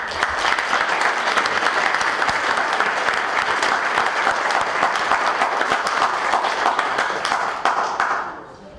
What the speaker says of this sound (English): Can we have a round of applause for both?